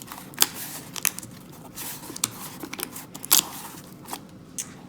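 Stiff cardboard insert being pushed into a handmade cardboard picture frame, with a run of close, crisp scraping and crunching clicks at irregular intervals, fairly quiet.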